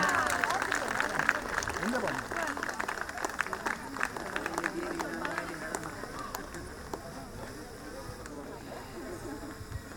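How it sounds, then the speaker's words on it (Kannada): Loud, sustained applause and cheering from an audience at a stage event as a performer costumed as the goddess Durga Parameshwari comes on stage. A dense clatter of claps runs unbroken throughout, with crowd voices mixed in. "ಬರ್ಲಿ ಜೋರಾದ ಚಪ್ಪಾಳೆ ನಮ್ಮ ದುರ್ಗಾ ಪರಮೇಶ್ವರಿ ಅವ್ರಿಗೆ"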